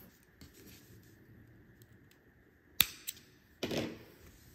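Yarn being snipped off a crochet hook with scissors while making a watermelon market bag: a quiet stretch, then a sharp snip, a small second click and a brief rustle, close by and alone.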